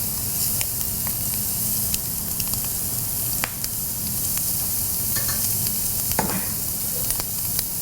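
Cajun-seasoned shrimp frying in a pan, a loud continuous sizzle with occasional sharp crackles and pops and some scraping as the shrimp are stirred, close up and without talking.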